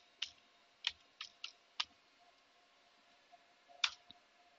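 Computer keyboard keys tapped one at a time, a few sharp close clicks with short pauses between them in a quiet room.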